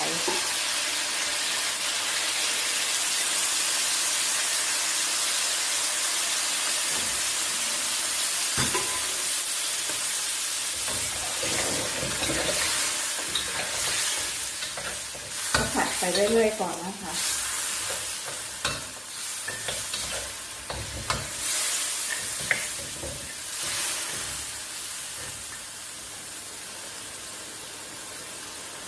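Pork ribs stir-fried with holy basil in a stainless steel pot, with steady frying hiss and scraping, clattering stirring that grows busier midway, someone speaking intermittently over it.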